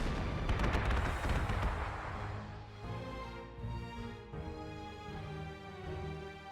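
Artillery fire in the Panzer Corps 2 video game, a loud rumbling barrage of booms that swells early, then fades into a softer lingering roll with game music underneath.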